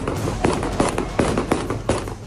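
Gunshots fired to control a panicked crowd at Kabul airport: a rapid string of sharp, loud bangs, roughly six in under three seconds, over a steady roar of background noise, with no clear talking.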